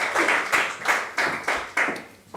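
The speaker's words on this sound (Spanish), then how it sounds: "Y un fuerte aplauso para ella." Clapping from the audience at a lecture on Andalusian speech, heard as a series of separate, evenly spaced clap bursts in a steady rhythm, fairly close and moderately loud, with no voices.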